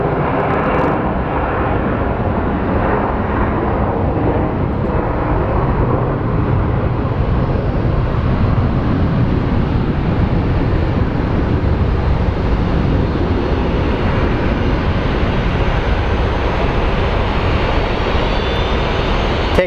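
A jet airliner on the runway at Phoenix Sky Harbor airport gives a loud, continuous engine roar that holds steady for about twenty seconds, with no voices over it.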